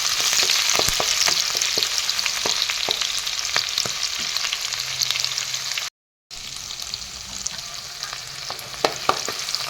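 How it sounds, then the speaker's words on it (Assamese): Onions fry in hot oil with green chillies, a loud close continuous sizzle with scattered crackles and occasional utensil taps, broken by a brief silent gap; no one speaks. "পিঁয়াজখিনি অলপ ৰংচঙা কৰি ল'ম প্ৰথমতে।"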